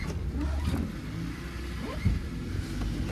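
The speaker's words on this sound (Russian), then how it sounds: "Видим, что автомобиль у нас пытается ехать." Engine of a Chery Tiggo 3 running as the car tries to drive, a low steady rumble with a slight rev partway through, close and moderately loud.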